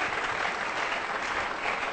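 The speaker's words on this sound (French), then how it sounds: "Est-ce que nous pouvons acclamer?" A church congregation claps and cheers in steady, dense applause for the whole two seconds, a loud and continuous wash with no break in it.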